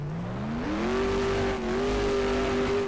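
A red ACF-powered sports car in Garry's Mod revs up, its engine tone climbing through a shift then holding a steady high whine as it drives, loud and close with no talk.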